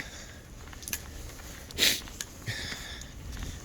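A short, sharp sniff sounds close by against a quiet background, with a couple of fainter nasal breaths around it.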